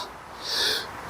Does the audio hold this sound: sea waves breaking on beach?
no